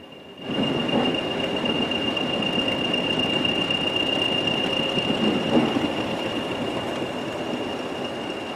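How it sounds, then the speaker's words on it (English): A Class 20 diesel locomotive rumbles steadily closer as it runs into a yard, a continuous engine drone with a high whining tone running throughout and faint wheel squeal, no voices. "Class 20 diesel locomotive arrives at Ingro and runs into the yard"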